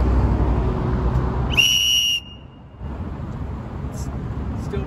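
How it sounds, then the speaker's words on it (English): A storm whistle cuts through the din of a loud city street in one sharp, piercing, high blast of about half a second. Steady traffic rumble and people talking carry on underneath. "Better blow on the whistle."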